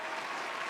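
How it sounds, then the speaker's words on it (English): A brief burst of applause, dense and steady, like a small audience or an added clapping effect, with no talking over it. "Round of applause"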